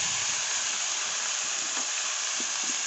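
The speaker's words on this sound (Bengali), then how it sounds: "ভালো করে ভেজে নেব।" Bitter gourd and potato pieces frying in a pan with onions, a dense, steady hiss of hot oil held close and loud, with faint soft stirring knocks underneath and no voices.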